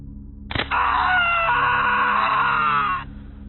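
A character in a Garry's Mod (Gmod) animation screams as a finger is broken with a tool: a sharp crack, then a loud, sustained, strained cry lasting about two and a half seconds before cutting off.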